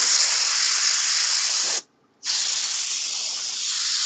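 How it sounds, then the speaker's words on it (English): Compressed air is blown in a steady, loud, broadband hiss over an alcohol ink cherry blossom painting. The hiss stops for a moment partway through, then resumes just as strong. No talking. "air power washing a piece"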